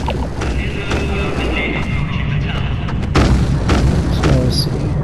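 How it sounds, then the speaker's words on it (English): Gunfire in the online game The Tomorrow Children, sharp shots and booms popping over a steady ambient game bed, a few louder bursts clustering toward the end. "I don't know where those shots are coming from."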